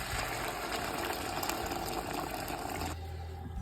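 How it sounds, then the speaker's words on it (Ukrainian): Hot water pours steadily into a pot of fried soup ingredients with meat, a continuous loud gushing splash that stops near the end, leaving a low hum. "тепер заливаємо це гарячою водою"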